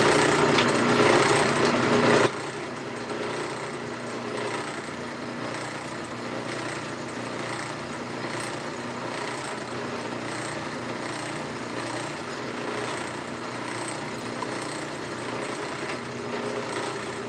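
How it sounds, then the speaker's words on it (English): A power drill bores a couple of holes, its high whining motor buzzing loud for a couple of seconds, then a quieter steady whir continuing under background noise. "Okay, I'm going to drill a couple holes."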